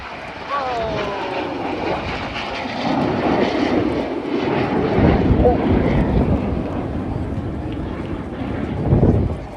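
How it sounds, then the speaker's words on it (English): Red Arrows jets fly past at an airshow, a broad roaring engine rush that builds and lingers with wind buffeting the microphone, while a commentator speaks over the noise. "Each aircraft will perform a barrel roll."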